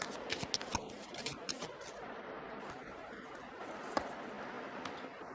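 Tarot cards being shuffled close by during a reading, faint papery riffling and soft slapping of card edges in an uneven rhythm, with a few sharper taps standing out against a quiet room.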